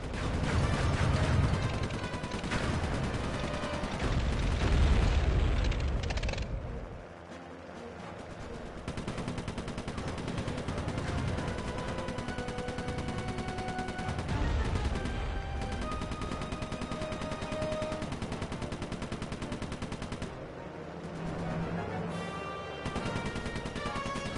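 Plane-mounted machine guns in the video game Sly 3, rapid sustained bursts of gunfire over a thick rumble of engines and game music, pausing briefly and then resuming in long, loud volleys.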